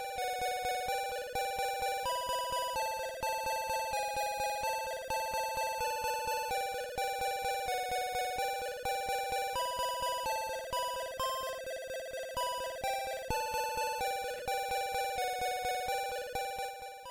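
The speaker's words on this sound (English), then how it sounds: "Oh, that's a ringtone." Phone ringtone in the video game One Night Hot Springs, a repeating electronic melody with bright stepped tones, loud and continuous for the whole stretch with no talk.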